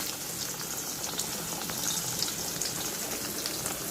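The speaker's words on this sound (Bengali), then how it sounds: "মাছ ভাজা তেলে এখন আলুটা ভেজে নেওয়া হচ্ছে।" Potatoes frying in the oil left from frying tilapia fish, a dense, even crackling sizzle that stays close and constant throughout.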